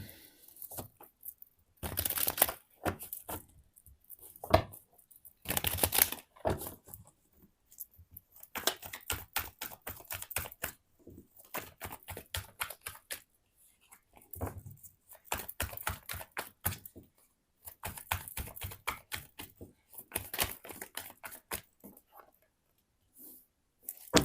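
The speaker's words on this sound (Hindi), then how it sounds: "तब तो मैं कार्ड शफल करती हूँ" Tarot cards being shuffled by hand at close range, a long run of quick riffling and patting bursts separated by short pauses, fairly loud and alone without talk.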